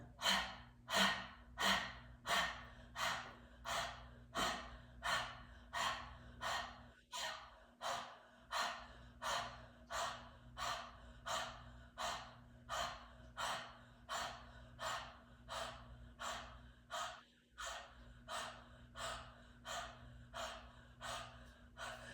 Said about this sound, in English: let's take inhale in and exhale more quickly this time